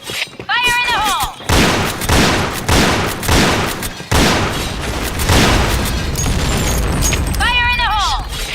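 Shooter video game combat: rapid bursts of gunfire and heavy booming grenade blasts, loud and close, continuing almost nonstop, with game voice lines calling out over the battle.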